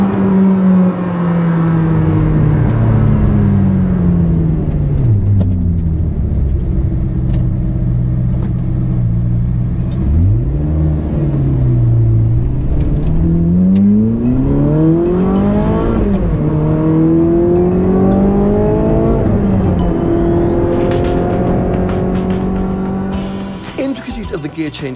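Ferrari 458 Speciale with a six-speed manual gearbox revving hard while driving, the engine note climbing and dropping through gear changes, loud and continuous, with someone talking over it.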